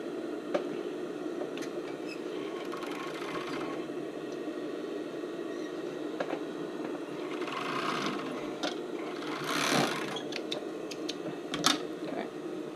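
A sewing machine stitching a sports bra, a steady close whirring hum with brief clicks and a few louder bursts as the fabric is fed through.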